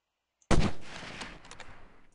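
A single sharp gunshot in the video game Delta Force, abrupt and loud, trailing into a reverberant tail with faint scattered crackles as it decays.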